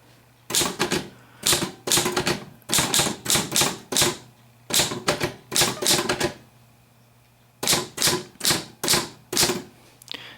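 A 1937 LC Smith and Corona Super Speed 11 manual typewriter typing in loud, close bursts of rapid key strikes, separated by short pauses, with no voices.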